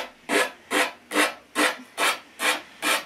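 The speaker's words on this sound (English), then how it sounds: "I'm just pulling the file down just to file off all of that excess side." A nail file is pulled down along the edge of a DIY marble countertop to remove the excess, giving seven evenly spaced, close, dry rasping strokes with short pauses between them and no talk.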